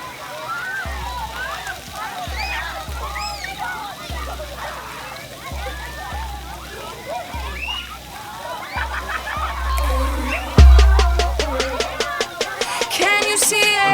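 Water splashing and sloshing at a park splash pad, a steady wet spray under continuous nearby talk and a voice, with a louder burst of splashing toward the end.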